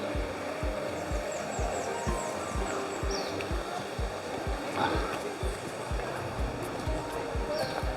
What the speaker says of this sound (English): Beautiful little river.